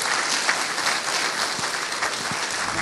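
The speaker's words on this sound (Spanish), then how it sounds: "Un fuerte aplauso para el expresidente Aznar" Steady, sustained applause from a large audience greeting former Spanish president Aznar, a dense wash of many hands clapping at a constant level throughout.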